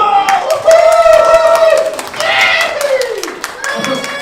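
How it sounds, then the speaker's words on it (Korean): Children in a church Sunday school class clap together after a cheer for Tottenham's Europa League win, a lively burst of hand claps mixed with young voices and shouting, fairly close and loud throughout. "박수!"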